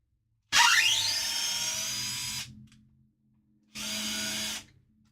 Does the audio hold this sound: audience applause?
no